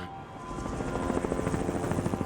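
A helicopter flies close past overhead in a forest rescue setting, its rotor chop rising into steady, loud rhythmic thumping that grows stronger through the pass, with no talk.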